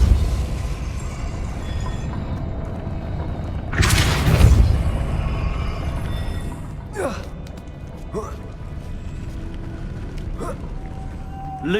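A Depulso spell cast in the video game Hogwarts Legacy gives a loud burst of force, followed by fainter magical whooshes and chimes over a steady game ambience.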